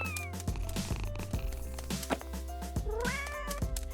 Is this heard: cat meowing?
yes